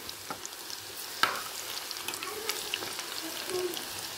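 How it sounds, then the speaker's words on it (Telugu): Marinated chicken pieces fry in a pan over low-medium heat, giving a soft, steady sizzle with occasional small pops and a brief stir clatter near the start. "చూడండి ఎంత స్లో మీడియంలో పెట్టుకుని వేయించుకుంటున్నానో నేనైతే"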